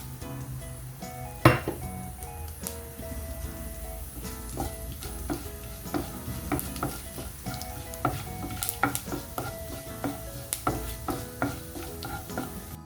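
Whole cardamom, cloves, cinnamon, fennel seeds and a bay leaf sauté in a pan for beef stew: a low steady sizzle under repeated spoon scrapes and metallic clinks against the pan, one sharp knock early on.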